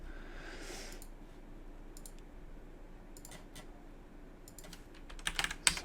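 Scattered bursts of keystrokes on a computer keyboard, faint and close, with pauses between short runs and a quicker cluster of clicks near the end, no talking.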